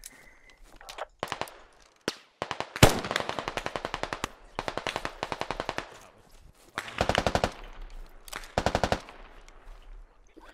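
Machine gun bursts in the Squad video game's 40v40 close-quarters combat, rapid rattling volleys in several separate bursts with short pauses between, loud and near, no talking.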